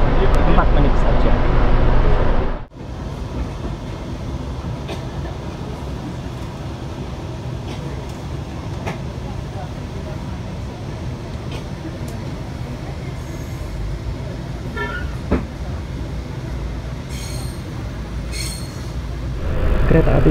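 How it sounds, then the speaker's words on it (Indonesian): A passenger train departing Solo Jebres station rumbles and clatters steadily nearby, with a brief dip before the noise resumes, faint wheel squeals and voices in the background. "Kereta api bias diberangkatkan kembali dari stasiun Solo Jebres ya"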